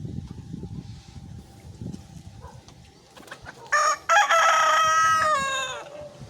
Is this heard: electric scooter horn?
no